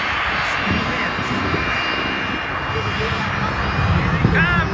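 Airplane engine at an air show roaring steadily during a race against a jet car, a loud continuous drone with background noise throughout.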